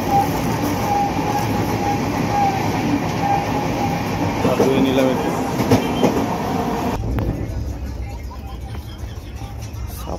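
Dibrugarh Rajdhani Express rolling along the rails, a steady loud rumble and clatter heard from inside the coach with some talk over it, the sound thinning and dropping after about seven seconds.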